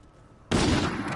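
Gunfire in a competitive Call of Duty match: after a brief near-silence, a loud, abrupt burst of rapid shots erupts and keeps going as a dense, continuous volley.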